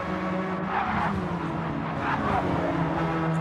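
Race cars drive flat out on the Sainte-Croix circuit, a loud continuous engine roar with rising and falling revs and brief tire squeal as the cars take a right-hander.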